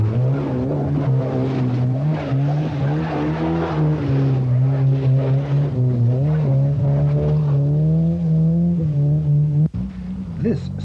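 A vintage Singer 9 car pulls steadily uphill during a motor club trial in Exeter, its engine drone loud and continuous with a slight rise and fall in pitch, and someone talks over it.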